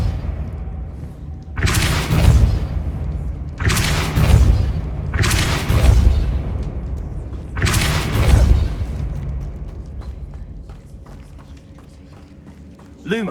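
In Hogwarts Legacy, four whooshing, booming Depulso spell blasts go off about two seconds apart, loud and close with a rumbling low end, followed by quieter game ambience.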